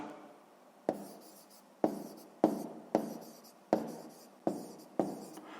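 Pen strokes on paper while noting a 1:200 scale for a 6th-grade maths exercise, seven short scratchy strokes in a steady rhythm, close and alone with no talk.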